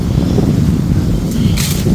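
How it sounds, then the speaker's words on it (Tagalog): Strong gusty wind blows outdoors in Melbourne during a storm, a loud continuous low rumble of buffeting against the microphone with faint rustling. "diba mahangin ngayon yan hmm. Sobrang hangin."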